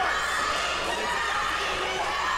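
A dense, steady roar of a wrestling crowd cheering at a casket match, loud and continuous throughout with no clear break.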